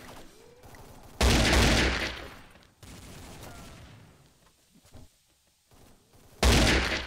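Two loud bursts of AK rifle fire in the video game XSHOT, one early and one near the end, separated by quieter stretches of muffled background noise.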